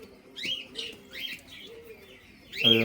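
Pigeons call close by in a few short, high chirping bursts with soft low cooing beneath, ending in a louder, brighter call.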